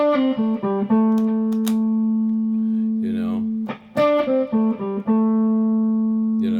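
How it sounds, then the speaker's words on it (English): A distorted electric guitar plays a quick lick of separate held notes with flat, unwavering pitch, pausing briefly midway before a second phrase. "If you don't have any vibrato, your licks are going to sound like this."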